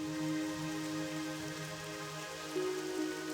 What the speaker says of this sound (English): Looks like we're in for some rain in the foothills.